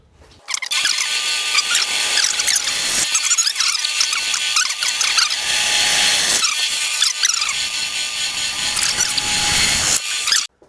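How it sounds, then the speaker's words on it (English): A power drill bores holes through a tube in repeated loud, shrill bursts lasting several seconds each, with short pauses between them and no talking. "All right, let's drill some holes."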